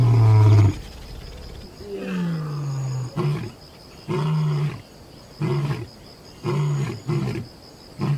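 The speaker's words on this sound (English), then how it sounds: "A roar that thunders like rolling thunder, audible from 5 miles away." Big cat roaring in the wild: one long opening roar, then a series of deep, loud grunting roars repeated at a steady rhythm, close and unaccompanied by talk.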